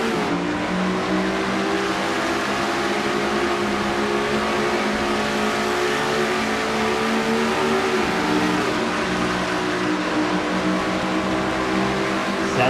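Stock race cars at a Dover restart, heard from an in-car camera: a loud, continuous engine roar with rising revs and a sustained harmonic whine as the field accelerates, no talk.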